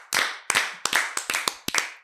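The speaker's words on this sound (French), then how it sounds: "C'est Maître Connard, qu'on peut applaudir." Studio audience applauding on a French television game show: a burst of loud, close, sharp claps in an uneven rhythm with brief gaps between them.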